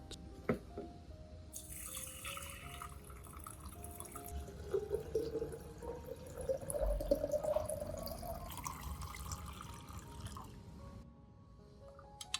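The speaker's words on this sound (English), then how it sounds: "Add to 2 liters of warm water." Warm water pours into a container of rice, a steady splashing and trickling stream that rises gradually in pitch as the vessel fills, close and clear with no talking.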